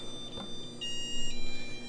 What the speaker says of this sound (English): Just gotta clear that alarm here. Had a little overflow